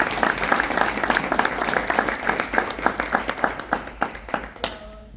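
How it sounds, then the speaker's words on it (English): An indoor audience applauds after a question session at an event, a dense round of clapping that thins out into a few last claps before stopping. "Let's give another round of applause."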